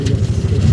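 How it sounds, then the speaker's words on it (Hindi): A car being driven at an easy pace gives off a low, steady engine rumble from inside the cabin, continuous and fairly loud with no talking. "आराम से साहब चला रहा है गाड़ी"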